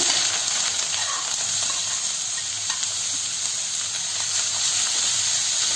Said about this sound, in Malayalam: പിന്നെ നമ്മൾ ചെറുതായിട്ട് അരിഞ്ഞ് വെച്ചിരിക്കുന്ന ഇഞ്ചി ഇട്ട് കൊടുക്കുക.